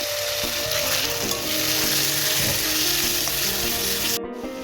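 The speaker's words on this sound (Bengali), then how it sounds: "তো এখন এর মধ্যে আমি চিকেনগুলো দিয়ে দেব।" Chicken pieces fry in a pan for a chicken roll, a loud close steady sizzle with crackling and some stirring that runs throughout before dropping off abruptly at the end.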